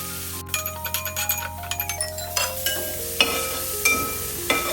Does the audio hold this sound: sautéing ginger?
yes